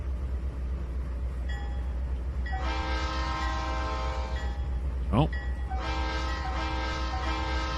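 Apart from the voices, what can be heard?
train whistle blowing in Trainz 2019 video game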